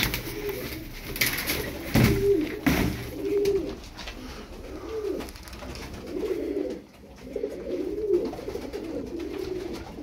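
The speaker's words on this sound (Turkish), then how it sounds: "Bakın yakından bakın kuşlara." Çorum pigeons coo in a series of low, rolling calls close by, with soft fluttering and rustling in between.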